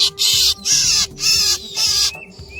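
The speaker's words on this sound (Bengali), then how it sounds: "পাখিটার নাম হচ্ছে ভীমরাজ অনেকে রাজফিঙ্গে অথবা ধীরাজ নামেও ডাকে" Greater racket-tailed drongo calling in evergreen forest, four loud, harsh, raspy bursts in steady rhythm close by, each about half a second with short gaps, followed by a brief thinner note.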